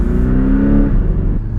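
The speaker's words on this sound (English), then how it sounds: "the engine's right behind you, so you hear it a lot more" A Porsche 718 Cayman GTS with its 2.5-litre engine mounted just behind the cabin revs steadily through a quick PDK gearshift, a loud, close, sustained drone that eases slightly near the end.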